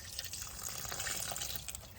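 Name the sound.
water being added while making tamales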